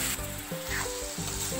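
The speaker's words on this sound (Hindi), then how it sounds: "अब इसको 2 मिनट तक अच्छे से हम भूनेंगे" Zucchini and spices sauté in a pan with a continuous close, crackling sizzle that swells and dips slightly as the vegetables are stirred.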